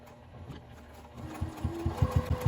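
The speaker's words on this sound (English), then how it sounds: "I'm going to sew the flap on" A sewing machine top-stitches a pocket flap on a fabric memory bag, starting with a soft motor hum and then running in a rapid, rhythmic burst of stitching pulses that grows louder up close.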